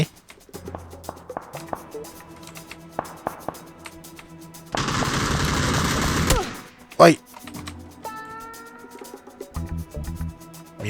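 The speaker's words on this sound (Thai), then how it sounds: "คนยิงผมใกล้ๆอ่ะ" Nearby gunfire rings out in the PUBG battle royale game: scattered sharp shots, then a loud sustained burst of firing and one heavy blast, with a player's voice talking in between.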